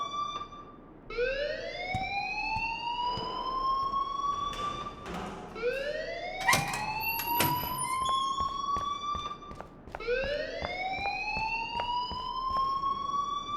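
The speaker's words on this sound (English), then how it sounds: "please turn off that alarm since that's your job" A fire alarm sounds in a school hallway in the game Life is Strange, three loud rising electronic siren sweeps in a steady cycle, with a few thumps and taps in between.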